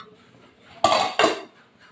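A metal lid set down on a cooking pot on the stove while a Kerala koottukari curry cooks, two close, bright clanks in quick succession against a quiet kitchen background.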